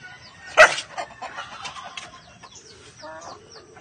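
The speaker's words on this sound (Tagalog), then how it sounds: "Ito mga bagong sisiw." Chickens with newly hatched chicks, sounding as close clucks and small peeping calls after one sharp, loud squawk near the start, with faint background noise.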